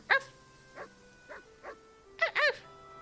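Cartoonish dog barks from the Tales of Arise video game, several short yips spaced apart and then a quicker double bark near the end, fairly soft with a faint game music bed underneath.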